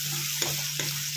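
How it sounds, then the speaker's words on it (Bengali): Spice paste fries loudly in a pan with a constant sizzle, and two short stirring scrapes break through the hiss, close and clear. "এই মশলাটা কিন্তু খুব ভালো করে ভাজতে হবে।"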